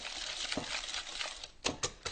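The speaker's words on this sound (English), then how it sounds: "I'm just going to whisk these together" Eggs and vanilla extract whisked together in a bowl in a home kitchen, a steady patter of quick scraping strokes, then a few sharper clinks of the whisk against the bowl near the end.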